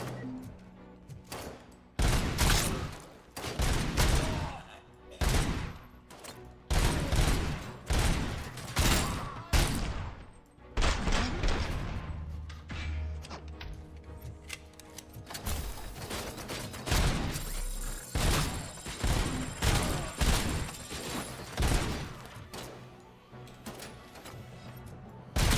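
Enemy machine gun fire in a Robocop video game, heard as repeated loud bursts of rapid gunfire and sharp shots spread through the clip with mechanical clanks between volleys and no talking.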